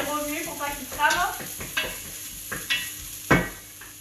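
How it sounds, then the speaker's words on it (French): Onions frying in a pot while being stirred, a bright close sizzle with several scraping strokes and one louder knock of the spoon against the pot near the end. "On n'oublie pas nos oignons, on les remue pour pas qu'ils crament."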